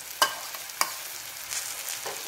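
Sharp scraping taps of a spatula against a pan, two distinct strokes, stirring fried shallots into sambal Jawa, over a soft continuous sizzle of frying.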